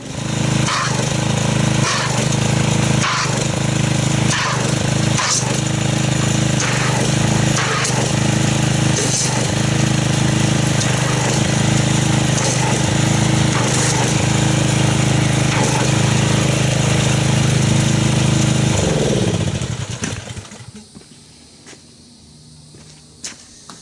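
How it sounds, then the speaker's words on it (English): A pressure washer sprays Blue Coral High Foam car wash concentrate onto a car, a loud, steady motor-driven hiss that runs without a break for about twenty seconds and then cuts off, leaving quiet. "let's go ahead and get the pressure washer, agitate the bottom, and see if we can create some foam with the blue coral"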